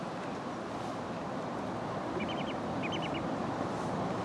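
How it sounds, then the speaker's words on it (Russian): Duck in a park pond giving two short bursts of rapid, nasal quacks, each a quick cluster of four or so calls, fairly faint against a loud wash of wind and outdoor background noise. "О, ребят, вот я что вам покажу, утку. Она сейчас крякнула."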